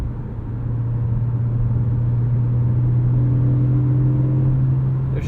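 A Porsche 718 Cayman GTS 4.0 flat-six engine holds a steady, smooth hum at a constant pitch from close inside the car, with a faint rising overtone partway through and no speech.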